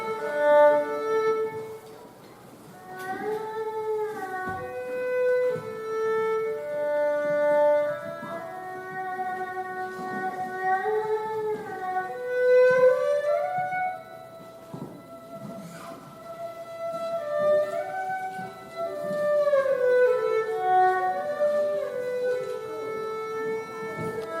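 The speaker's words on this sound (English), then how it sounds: "the Arhu is a two-stringed bowed instrument" An erhu, a bowed two-stringed Chinese instrument, plays a slow, sliding melody with long wavering notes and smooth glides in a school performance, moderately quiet, with faint background hiss and no voices.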